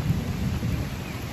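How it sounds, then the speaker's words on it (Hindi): Heavy rain with thunder at night, a dense rushing downpour under a deep, low rumble that swells and fades, loud and close with no voices. "तो हूँ वाली है देखो कितनी बारिश हो गई।"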